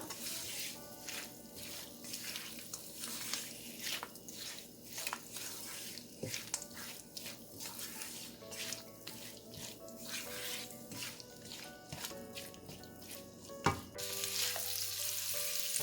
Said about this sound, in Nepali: अब यसलाई चलाइदिउँ र अब यसलाई चलाउँदै चलाउँदै तामालाई केही बेर फ्राई गर्नुपर्छ